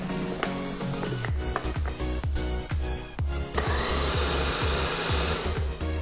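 A blender grinding bakpia filling ingredients with salt, water and fiber cream, a steady loud whir with repeated low thumps and pulses as the contents churn.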